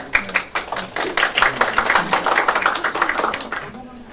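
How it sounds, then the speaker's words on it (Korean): Participants at a Korean Internet Governance Forum steering committee meeting clap for a committee member, a close, lively burst of hands from a small group with voices mixed in, tapering off near the end. "오병현 위원님한테 좀 박수 한번 쳐드리고 싶어요"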